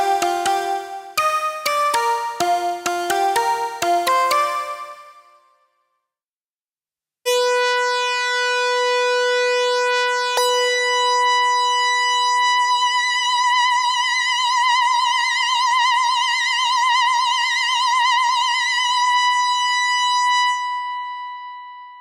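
Studiologic Sledge synthesizer effects: a run of quick plucked, bell-like tones, a short silence, then long sustained bright buzzing tones that hold steady before fading.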